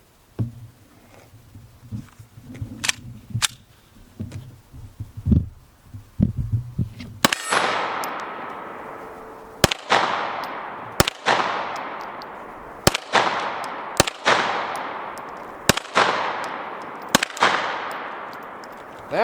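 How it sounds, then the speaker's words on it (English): M17 military pistol firing at an outdoor range, a series of about nine sharp, loud shots at uneven intervals, each with a ringing decaying echo, after quieter handling clicks and thumps. "Let's shoot this one."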